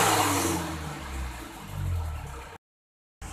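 Engine of an Isuzu Panther revving up and settling, a loud rough roar that swells twice before cutting to silence, then returning briefly.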